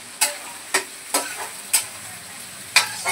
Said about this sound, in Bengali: এটা ভাজতে থাকুক ততক্ষণ